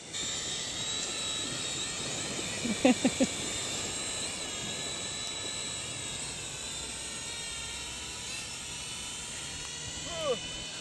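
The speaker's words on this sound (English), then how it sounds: "the maiden flight of the ragtime drone" A small camera drone whines steadily at a distance on its first flight, its high hum holding level throughout, with a brief faint voice partway through.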